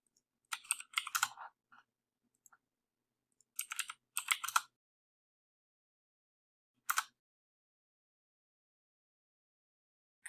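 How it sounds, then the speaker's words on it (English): Computer keyboard keys pressed in short bursts of quick clicks separated by silent pauses, close and fairly quiet. "All I did was hit delete on my keyboard."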